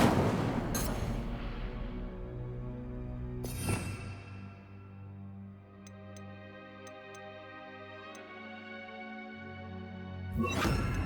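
Incendio fire spell cast in Hogwarts Legacy, a sharp whooshing burst near the start followed by crackling bursts and ticking game effects over a low ambient drone, with another burst at the end.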